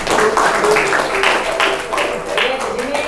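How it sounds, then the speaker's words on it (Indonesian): Students in a classroom lesson applaud themselves, a close, steady patter of clapping mixed with voices that carries on throughout. "Beri tepuk tangan dulu pada kalian sendiri ya."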